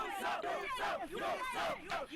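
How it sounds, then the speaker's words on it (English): A crowd shouts a rhythmic chant in unison, about five loud repeated bursts that rise and fall in a steady beat. "Oh, they're shouting, "You suck.""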